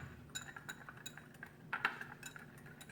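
Light clinks and taps of a utensil against a bowl come through faintly and irregularly while dry ingredients for spicy sweet nuts are stirred together.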